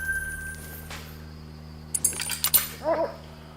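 Hunting dog in the video game theHunter: Call of the Wild on a whitetail hunt in Mississippi Acres, giving a few short barks and whines near the end after quiet game ambience with faint jingling.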